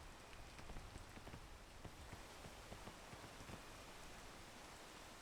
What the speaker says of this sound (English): how will I get them out of this rainstorm?